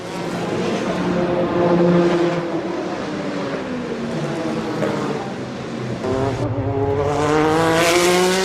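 Race cars at the 2004 Le Mans 24 Hours roar continuously, several engines overlapping with rising and falling pitch as they pass, loud and sustained throughout.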